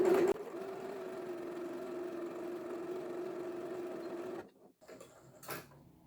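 A domestic sewing machine stitches a curved segment of a reversible sun hat cap, running as a steady close mechanical hum for about four seconds before stopping, followed by faint fabric handling.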